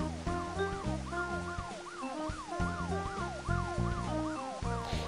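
A police car siren from the Intersection Controller traffic video game wails in rising and falling sweeps, loud and close over repeating electronic game tones, no talking.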